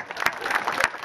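An audience applauds to welcome Marion Blakey at the TARC 2010 award presentation, a short burst of scattered hand claps from a moderate crowd.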